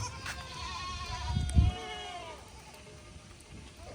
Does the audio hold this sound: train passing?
no